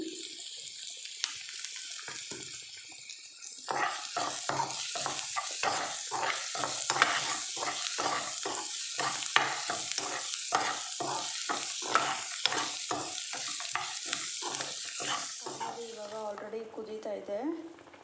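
A spatula stirs and scrapes through a hot pan in a steady, rhythmic series of strokes over sizzling, with turmeric powder added while making vermicelli upma. A voice talks at times.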